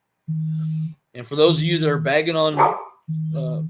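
A dog sounds in the background of a talk recording, giving two sustained, even-pitched calls, one before and one after a stretch of someone speaking over it.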